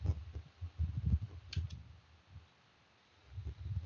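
Fingers typing a command on a computer keyboard, a quiet run of soft key clicks in quick bursts, pausing briefly midway before resuming.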